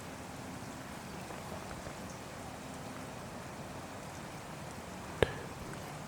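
Steady rain falls outdoors, a soft continuous patter on surfaces close around, with one sharp tap standing out near the end.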